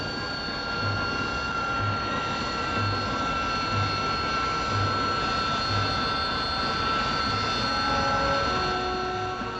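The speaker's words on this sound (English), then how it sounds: "a metal or plastic pad is put down and the Kestrel lands on it vertically" A Hawker Siddeley Kestrel jet hovers and lands vertically on a metal or plastic pad, its engine giving a steady, loud whining roar with high tonal hum and a faint rhythmic thumping underneath.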